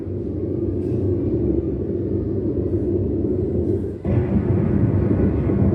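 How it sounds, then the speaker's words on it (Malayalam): Thunder rumbles deep and continuous during a school stage drama, rolling on steadily at close range with no pauses, swelling slightly louder near the end. "ഇടിയും മുഴങ്ങുന്നുണ്ടല്ലോ"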